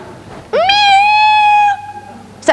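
A person imitates a cat with one long, clear, loud meow lasting over a second, followed by a brief start of another sound.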